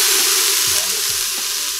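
Fresh garlic sizzles in hot olive oil in a pot while spaghetti sauce is being made, a loud, steady hiss with faint low scrapes underneath.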